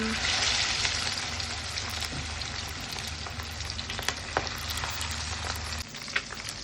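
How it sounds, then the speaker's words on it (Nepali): Fish fries in oil in a pan, producing a loud, continuous hissing sizzle with a few faint clicks and spatters, which eases slightly toward the end. "त्यसपछि त्यसलाई तेलमा फ्राई गर्नको लागि राखेँ"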